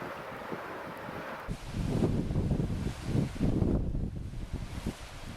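Sea waves hit the rocks of a cove, heard as a rolling, swelling roar that rises and falls in surges, mixed with gusty wind buffeting the microphone, and no voices.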